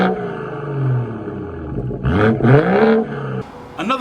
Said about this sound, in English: I personally don't mind the sound of this car.